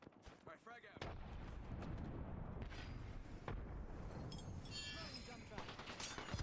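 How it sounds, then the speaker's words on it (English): Gunfire in Apex Legends, rapid bursts of shots cracking in dense succession over a heavy rumbling bed, loud and continuous after an opening gap, with faint voice traces mixed in. "Shots fired and they're hitting me."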